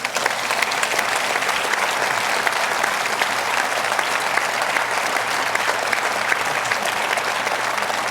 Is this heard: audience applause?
yes